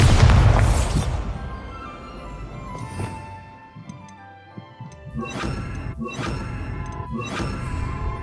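A Bombarda spell in the video game Hogwarts Legacy sets off a loud booming blast, followed by scattered crashing debris and several sharp bursting impacts, with no talk.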